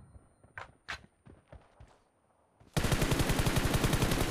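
PUBG Mobile gunfire: a few soft scuffs and light taps, then a loud, sustained automatic burst of rapid, evenly spaced shots that continues to the end.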